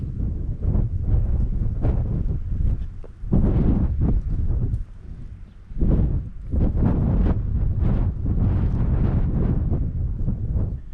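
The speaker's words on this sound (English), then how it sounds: "Bloody wind's picked up." Strong wind buffets the microphone beside the River Humber during a sea-fishing session, coming in loud, roaring gusts that rise and fall, with no talking.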